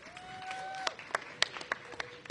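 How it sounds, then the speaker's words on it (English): Scattered applause at a university commencement ceremony, a thin patter of distinct claps after a brief tone, fairly quiet and sparse. "A round of applause for Dorothy Casterline."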